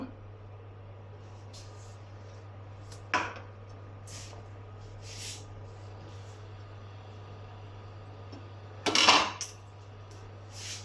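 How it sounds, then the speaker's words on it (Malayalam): A tawa pan is set down on a kitchen stove before frying Manthal fish, giving two brief metallic clanks several seconds apart over a steady low hum. "നമുക്ക് സ്റ്റൗ മീതെ ഒരു തവ വെച്ച് കൊടുക്കാം"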